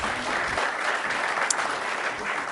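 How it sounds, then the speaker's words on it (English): A panel discussion audience at IMA gives a round of applause, with continuous, even clapping from many hands that holds steady at moderate loudness throughout. "One loud round of applause."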